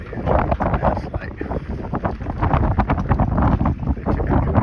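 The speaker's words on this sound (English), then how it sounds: "Wind's blowing up to 22" Wind gusts hard across a boat at anchor near Tilloo Cay in the Bahamas, a loud, constant, rough buffeting roar on the microphone with no break.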